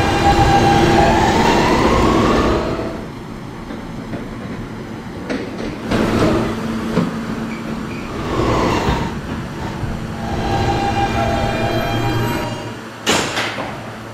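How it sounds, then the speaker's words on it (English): A simulated R160 subway train on a Q line in a Roblox game runs with rising and falling motor whine, rumbling wheels and clicking track joints, loud and close, with a brief door-like clunk near the end. "This is a Myrtle Avenue bound Q train."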